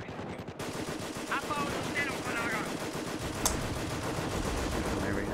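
Machine gun squad in the Company of Heroes game fires steady automatic bursts among constant battlefield gunfire and explosions, loud and continuous, with faint distant voice callouts.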